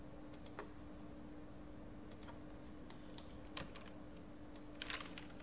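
Computer keyboard keys are tapped at a desk during AutoCAD drafting, with scattered sharp clicks and a short cluster of presses near the end, including space and enter keystrokes, close and fairly quiet over a steady background hum.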